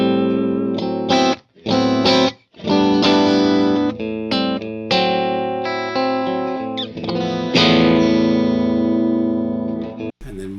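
Electric guitar in a clean tone played through Matchless and Mesa Rectifier amplifiers, ringing chords and single notes with short pauses, loud and close with no voices.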